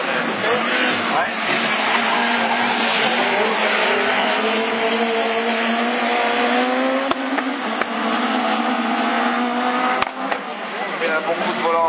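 Super 1600 rallycross cars, including a small Citroën Saxo, race at Lessay, engines revving and rising in pitch with tire squeal, loud and close, while a commentator talks over the action.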